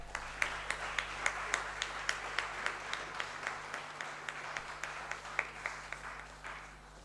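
Steady applause from a crowd, sharp claps rising above a continuous patter, sustained throughout.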